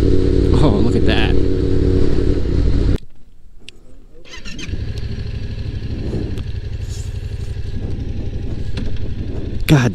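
A Yamaha FZ-07 motorcycle engine hums loudly while riding, drops away briefly around the middle, then returns as a steady drone with a voice talking over the wind and engine.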